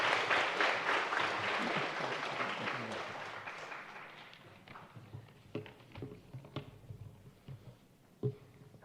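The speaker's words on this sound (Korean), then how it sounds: "나오실 때 우리 뜨거운 박수로 환영하도록 하겠습니다" A church congregation at a Sunday afternoon service applauding warmly to welcome a missionary to the pulpit, a dense wash of clapping that fades out over several seconds, followed by scattered taps and footsteps.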